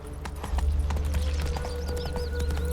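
Horse hooves clip-clop at a brisk steady gallop in The Witcher 3, loud and close over a low rumbling game ambience, with a faint soft whinny near the end.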